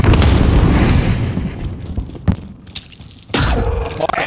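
A frag grenade blast in a first-person shooter game, a sharp loud boom followed by rattling debris and scattered smaller pops, with busy gunfire-like clutter before and after.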